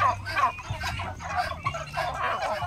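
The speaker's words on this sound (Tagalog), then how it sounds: "papakita ko lang sa inyo dito naman yung mga pabo ko dito sa loob" Turkeys in their pen on a Philippine turkey farm, a run of repeated gobbling and clucking calls from several birds, fairly close, with a voice faintly underneath.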